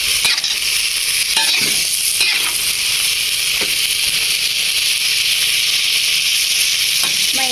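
Cucumber and pork belly stir-frying in a pan for a simple home dish, a loud, continuous sizzle broken by a few sharp scrapes and taps of the utensil, with no voices.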